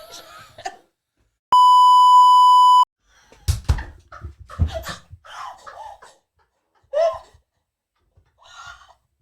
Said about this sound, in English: I'm just going to put a beep here.